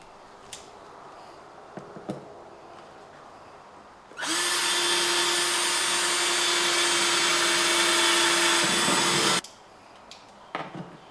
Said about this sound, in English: I'm going to drill so I can get my cable inside the box